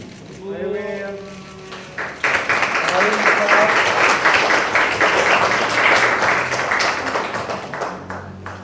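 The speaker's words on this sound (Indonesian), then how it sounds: "kita berikan tepuk tangan sekali lagi" Applause breaks out at a political ceremony in East Java where a party formally backs a governor and deputy governor pair, a dense, loud clapping crowd that follows an announcer's voice and keeps going for several seconds.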